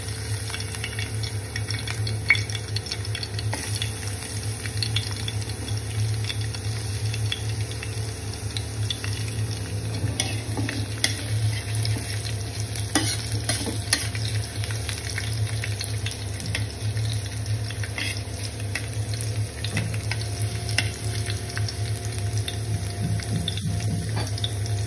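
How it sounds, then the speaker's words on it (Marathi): Garlic fries in hot oil for a pomfret curry, a steady close sizzle and hiss that runs continuously with faint stirring clicks and no talk. "तर तेल गरम झालं आहे, आता मी याच्यामध्ये लसूण ॲड करते."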